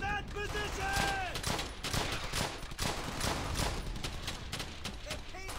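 Gunfire in the WWII shooter Brothers in Arms: Hell's Highway, a steady rattle of rifle and machine-gun shots in a busy firefight, with shouting voices heard under the shooting.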